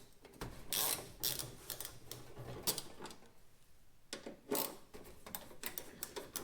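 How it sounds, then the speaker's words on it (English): Side screws come out of a microwave casing during a magnetron and diode repair: close, dry mechanical clicks and short scraping bursts in an uneven rhythm, with brief pauses between the louder metallic ticks. "you'll want to start by just taking these side screws off"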